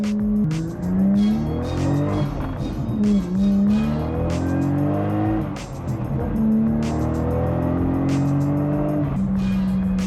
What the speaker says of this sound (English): There's just something special about this motor, and it really does sound like I could be in the hills of Japan